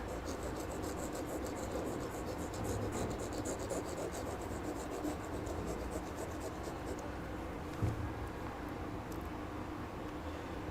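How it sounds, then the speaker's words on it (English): Steady dry rubbing of an eraser across a classroom board during a live aptitude lesson, a continuous scratchy swish lasting throughout with one small knock near the end, close and moderately loud with no talk. "So first we erase this."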